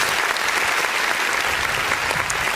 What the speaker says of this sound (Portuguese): e as palmas exaltam o nome de Jesus.